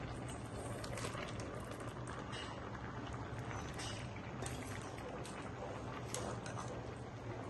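Malabar spinach and yam curry simmering in a pot, a steady soft bubbling and hiss that runs evenly throughout with no talk.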